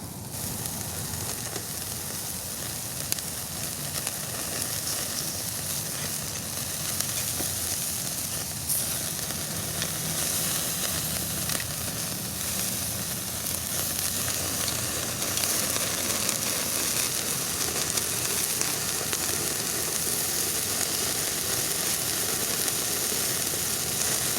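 Food sizzles steadily on a bacon-greased grill plate set over a Firebox stove fire, a continuous broadband crackle and hiss running unbroken at a close, fairly loud level with no voices.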